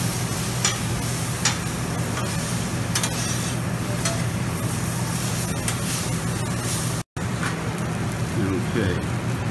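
Red pepper and lots of garlic sizzle on a hot Mongolian barbecue grill, a steady close frying hiss with occasional clicks and scrapes of stirring utensils, continuing with only a brief dropout.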